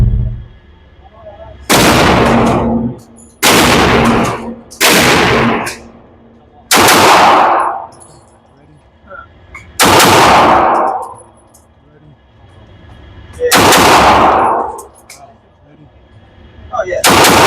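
Seven loud, close gunshots from a Kimber pistol at a shooting range, spaced irregularly one to three seconds apart, each a sharp crack with a ringing tail over quiet background.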